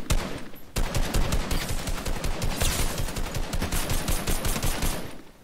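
Assault rifle fire in a video game: a long run of rapid, loud automatic shots in a fast, even rhythm that keeps going for several seconds, close and dense, with no talking over it.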